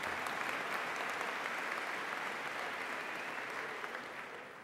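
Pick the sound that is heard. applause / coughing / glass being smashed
applause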